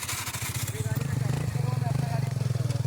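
A motorcycle with an Akrapovic exhaust runs with a steady throbbing pulse that grows louder and fuller partway through, while people talk nearby.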